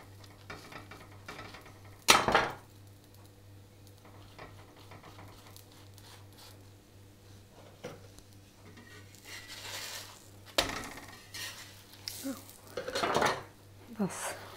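A potato-stuffed aloo paratha roasting on a pan, with a few sharp clatters of utensils against the pan and soft scraping and stirring over a low, steady background hum.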